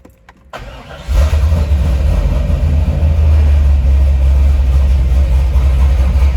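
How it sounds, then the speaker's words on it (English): A Chevrolet Corvette Z06 with a manual clutch cranks briefly, then catches and settles into a loud, steady, deep idle that carries on without a break, recorded close to the car. "let's go ahead and start this thing up, let you guys take a listen"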